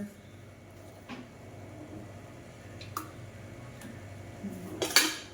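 Metal ladle clinks lightly against a bowl of dhokla batter as oil is added, a few soft taps followed by a louder clatter near the end, close and alone without talk.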